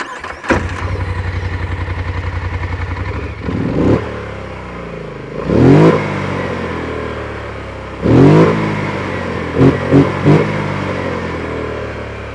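A Polaris Sportsman XP 1000 S ATV engine with a single center exhaust idles steadily, then revs sharply in several bursts: a single blip, two longer revs, and a quick triple rev near the end, loud and close.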